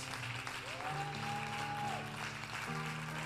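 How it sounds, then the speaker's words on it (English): A church congregation claps for the Lord during worship, soft and distant, under sustained organ-like tones that hold and shift throughout. "Let's give the Lord a great big hand clap."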